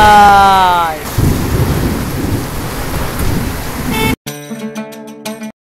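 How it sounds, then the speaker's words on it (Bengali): Loud thunder rumbles and pouring rain on a surface fill the scene, with gusts of wind; near the end a short burst of music cuts in. "বৃষ্টি নেমে গেছে, বৃষ্টি গাইস"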